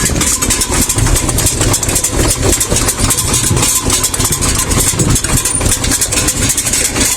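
A SHIFENG SF-240 mini tractor engine runs steadily while planting potatoes in a tilled garden plot, a loud, close, continuous rattling drone with no pauses.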